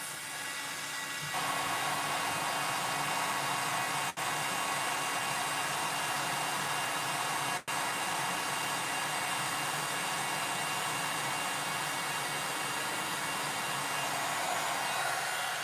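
A heat tool blows hot air onto embossing powder on card paper, making a loud, steady whooshing hiss close by with two brief dips, and no voices.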